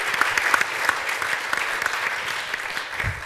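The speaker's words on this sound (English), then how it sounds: "let's just give her another applause for that" Audience at a brunch honoring event claps together, a lively, continuous round of applause with distinct hand claps popping out near and loud.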